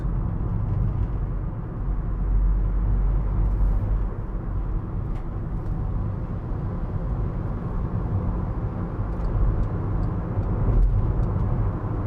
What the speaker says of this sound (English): Just take you up the motorway. It will be a little bit noisier, as I say.